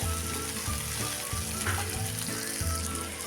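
Ingredients with turmeric sautéing in a hot pan, a loud, continuous sizzle and crackle of frying close up, with no talking.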